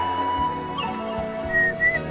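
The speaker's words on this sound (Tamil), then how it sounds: "சும்மா விசில்" A person whistles a few short, thin tones, clear and nearby, with brief pauses between notes and no talking.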